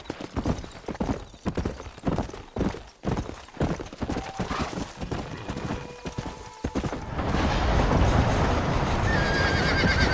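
A horse in Red Dead Redemption gallops with steady, rhythmic hoofbeats and lets out a whinny, then the clopping gives way to a broad, even wash of outdoor ambience.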